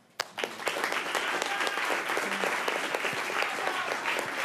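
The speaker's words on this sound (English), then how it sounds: "And maybe a round of applause for those two." An audience applauds at a poet laureate's inaugural poem event, dense steady clapping from a roomful of people that starts abruptly and carries on evenly.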